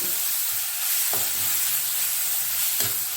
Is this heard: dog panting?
no